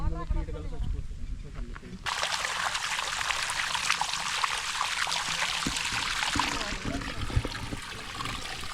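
Water pours steadily for hand washing on a Sunday outing near Yadagirigutta. A close, hissing stream starts after a moment of voices and runs continuously to the end.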